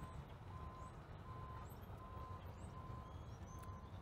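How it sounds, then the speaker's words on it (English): Faint, regular electronic beeps repeat at a steady pace far off, over a low rumbling background hum. "You can hear some beeping of some equipment in the distance"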